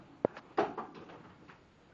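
A drawer holding personal care equipment is opened and shut during a foot-care routine, giving a sharp knock followed by a short sliding scrape and a few softer bumps, close and fairly quiet.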